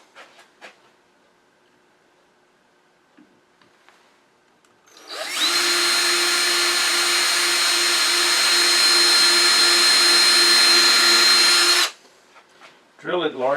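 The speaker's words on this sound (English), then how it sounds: "Use an electric drill." An electric drill bores a nose hole in a small wooden gnome ornament, a loud steady whine running about six seconds alone after a few quiet clicks, then cutting off sharply.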